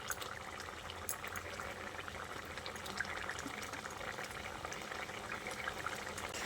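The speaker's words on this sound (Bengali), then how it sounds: "ধোকাগুলো দেওয়ার পর খুব বেশিক্ষণ ফোটাবো না, এই 2-3 মিনিট মতো ফুটিয়ে নিলেই হয়ে যাবে" Dhoka, lentil cakes in a jackfruit-seed curry, simmering in a pot, a steady close bubbling and sizzling that stays even and moderately loud for the whole stretch, with no voices.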